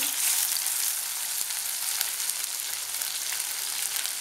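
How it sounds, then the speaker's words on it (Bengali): Ginger-garlic paste sizzles steadily in hot oil in a pan over medium heat while being stirred, a dense, even crackle with a few faint scrapes, close and unbroken with no voices. "আদা রসুনের পেস্টটা দিচ্ছি, দিয়ে একটু নেড়ে দিচ্ছি।"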